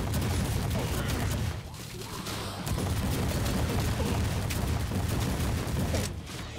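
Heavy, continuous gunfire in a zombie horde-mode fight in Welcome to ParadiZe, dense overlapping shots and booms at close range, nearly unbroken across the whole stretch with a brief dip midway.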